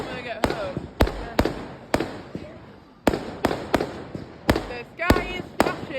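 Bonfire night fireworks in Beverley, 5th of November, going off as a rapid series of roughly ten close, loud bangs with crackling tails, while people whoop and talk in the background.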